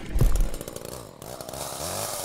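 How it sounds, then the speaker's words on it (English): A chainsaw roars loud and close in a Roblox horror game, its harsh buzzing engine revving and running steadily through the whole stretch with no talking over it. "That sounds like a chainsaw."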